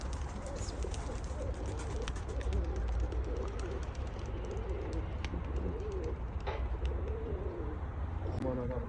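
Pigeon cooing and bird calls over a steady outdoor rumble, with some faint background voices and occasional flapping or rustling.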